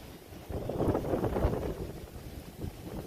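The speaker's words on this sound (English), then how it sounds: "Okay, we've got a real windy day today." Wind blowing hard outdoors on a windy day, rumbling and buffeting against the microphone in a steady, gusty roar with no voices.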